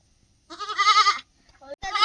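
A pregnant goat at a home gives one long wavering bleat, loud and close, followed after a brief pause by the start of another, with a small knock in between.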